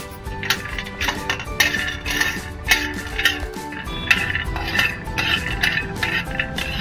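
Almonds dry-roasting in a pan for poha ladoos clatter and clink against the metal in uneven bursts as they are stirred, close and fairly loud with no talking.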